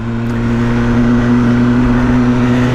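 A BMW M1000R motorcycle engine runs steadily on a commute ride, a loud continuous mid-pitched drone with a strong even tone that holds from start to end and rises slightly in the first half second.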